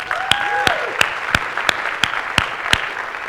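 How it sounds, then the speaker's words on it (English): Applause from an audience at a national service platform demonstration, a steady bed of clapping punctuated by regular sharp, loud individual claps near the microphone, with faint overlapping voices early on. "and give her a round of applause."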